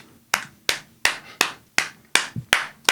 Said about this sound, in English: We're gonna add the rest of the claps in post.